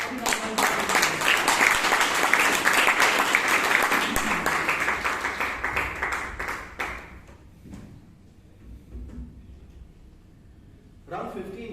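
An audience at a Toastmasters club meeting in Bangalore breaks into dense, lively applause for several seconds before the clapping thins out and fades to a quiet room.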